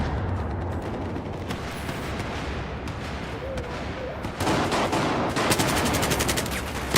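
Dense, continuous gunfire from a Battlefield video game firefight, with bursts of automatic fire and heavy impacts that grow louder and sharper toward the end.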